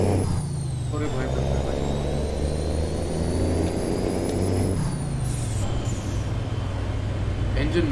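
A Peterbilt 388 heavy rescue wrecker truck engine in American Truck Simulator drones steadily with a deep rumble and a rising, then falling, whine. A voice talks over it throughout.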